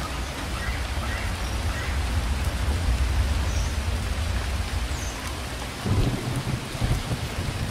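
Steady, loud rain pours down in a video game, a dense continuous wash of drops with a low rumble like distant thunder and a brief swell near the end, with no voices.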